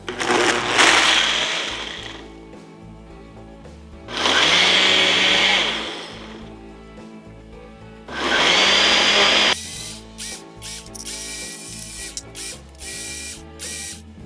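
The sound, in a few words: Ninja Nutri-Blender Pro blending a smoothie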